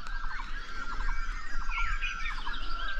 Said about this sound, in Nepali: अहिले बिहानको समय चरा चरङ्गीहरूको आवाज सुन्नुहोस् न।